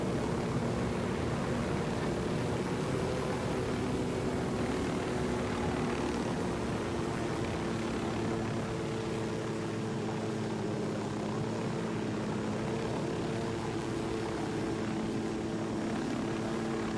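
A helicopter in the video game Ghost Recon Wildlands drones loudly and steadily throughout, with a continuous rotor and engine roar under a hissing wash of noise and no talk.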